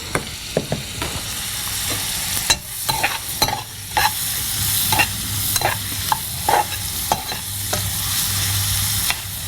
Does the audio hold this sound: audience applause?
no